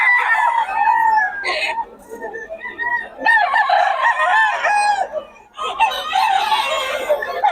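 White Claret stag gamecock crowing and clucking up close, several loud crows separated by short pauses, with someone talking faintly in the background.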